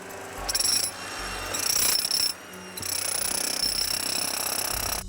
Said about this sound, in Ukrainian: У руках перфоратор підключений до генератора